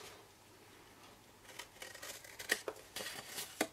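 Scissors snip through card for a decorative box, quiet at first and then a run of crisp, irregular cuts and rustles close by, with no talking.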